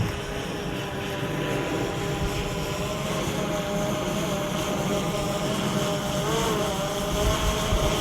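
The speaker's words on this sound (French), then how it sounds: "Le drone se positionne toujours à la verticale. Début de sa descente." A FIMI X8 SE quadcopter drone descends vertically toward a landing pad, its propellers giving a continuous steady whine and drone that holds nearly level, close and unbroken, with no voices.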